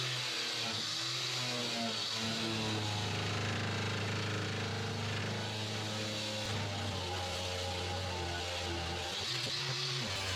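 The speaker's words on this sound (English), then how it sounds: "I started with a wire cut brush in my old Makita angle grinder." A wire cup brush on an old Makita angle grinder scours rust from a 1966 Ford Mustang fuel tank, giving a continuous loud, harsh whine and scraping roar with a steady motor drone that holds throughout.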